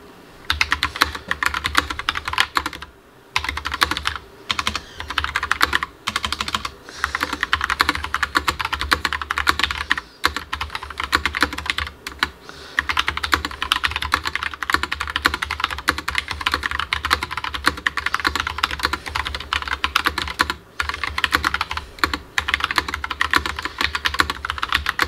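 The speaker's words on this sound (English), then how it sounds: "we're gonna type now" Typing on a Logitech POP Keys mechanical keyboard gives a steady run of close, crisp clacking keystrokes, a few short pauses breaking the flow, heard alone without speech.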